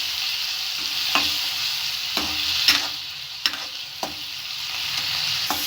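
Chopped onions and tomatoes fry in a pan for an egg and vegetable soup, a steady bright sizzle broken by a few sharp scrapes of a spoon stirring, close and alone.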